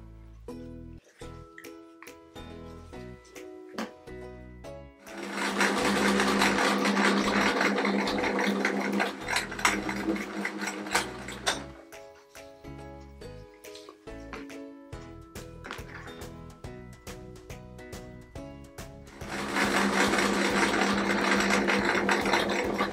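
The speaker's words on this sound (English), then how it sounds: "I'm going to be stitching this half together and then this half" A sewing machine stitching a patchwork quilt patch runs in two long steady whirring stretches, separated and followed by quieter clicks and handling sounds, close and alone.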